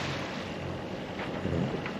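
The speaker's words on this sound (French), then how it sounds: "Au moteur, 1400 tours, 5 nœuds." A sailboat motoring under engine at 1400 rpm and about 5 knots on an Atlantic crossing gives a steady, dense rumble mixed with wind and water noise, continuous throughout with no voices.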